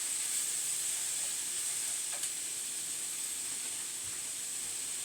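Salted vegetables sizzle over medium heat in a pan, caramelizing, a steady close hiss and crackle running evenly throughout with a faint stir clink partway.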